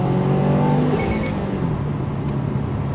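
Engine of a Subaru WRX in sport sharp mode revving toward redline, a steady loud in-cabin drone with rising harmonic tones over constant road and engine noise, no talking.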